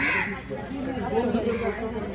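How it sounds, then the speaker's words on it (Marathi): Crows caw in the background amid crowd chatter at a fish market, while a person talks close by. "कावळे आहेत खूप सारे इकडे."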